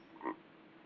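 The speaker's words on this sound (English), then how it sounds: "It makes me feel like it's a big animal. It's not a tiny frog." A big frog about 7 centimetres long gives one short, gravelly croak that rings with reverberation, faint and alone against a steady background hiss.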